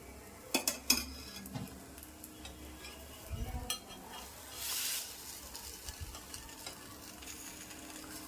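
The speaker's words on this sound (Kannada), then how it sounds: "ಈಗ ಇದು ರೋಸ್ಟ್ ಆಗ್ತಾಯಿದೆ." Raw banana slices pan roasting in oil, a quiet sizzle under sporadic clinks and scrapes of a utensil against the pan, with a brief louder hiss midway.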